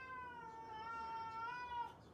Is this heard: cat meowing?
yes